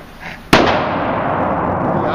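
A single sharp gunshot cracks out nearby at a gun range, followed by a long reverberant decay and steady background noise.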